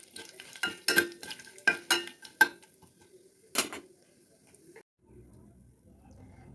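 Whole spices, including a five-spice panch phoron mix, are stirred in a hot pan, giving a run of sharp metallic scrapes and clinks in uneven rhythm before a soft, low sizzle takes over.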